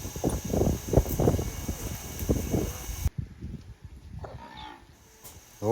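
Cattle low and moo repeatedly at close range, several animals overlapping in a busy farmyard just after being watered, then the sound thins out toward the end.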